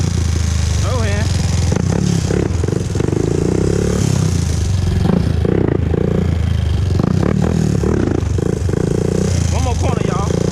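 A 2001 Honda TRX400EX ATV revs and rattles as it wheels through corners, its engine rising and falling under frequent shouting and talk from riders nearby.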